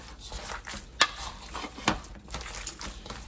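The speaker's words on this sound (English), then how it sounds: "I'm just going to give this egg and this stuffing a good mix here" Egg and bread stuffing for a turkey pot pie crust are worked together in a bowl, with soft wet squishing and two sharp clinks against the bowl.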